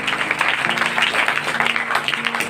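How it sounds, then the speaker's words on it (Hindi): Congregation in a church clapping together, a dense burst of applause with some voices mixed in, fairly loud and close throughout the short span. "ताली बजाए खुदा के लिए।"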